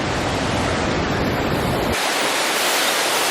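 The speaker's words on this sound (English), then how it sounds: "Okay, we're here by the waterfall." A waterfall on a hiking trail gives off a loud, continuous rushing roar, heard close up and unbroken, its tone shifting slightly brighter partway through.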